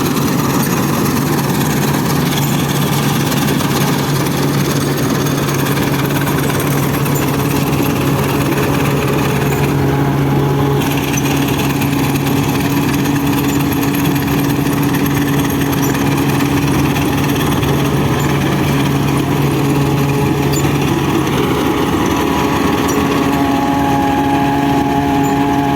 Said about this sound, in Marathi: आणली बघा गव्हाची मशीन